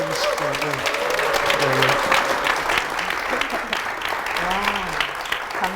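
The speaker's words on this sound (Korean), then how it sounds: "박수로 좀 맞아주시죠" A church congregation applauds steadily, a dense wash of clapping that carries throughout, with a voice speaking briefly over it.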